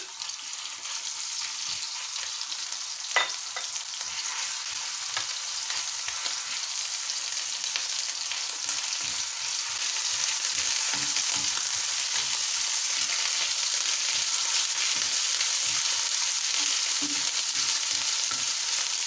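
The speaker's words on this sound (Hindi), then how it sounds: "अदरक लहसुन का पेस्ट ऐड करेंगे।" Ginger garlic paste fries in hot oil in a pan, a dense continuous sizzle close by that grows a little louder partway through, with occasional stirring scrapes and no voices.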